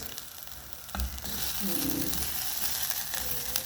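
Onions fry and sizzle in an oiled pan on the stove for brown rice, a steady close crackling hiss that swells as the heat is raised, with a faint stirring scrape.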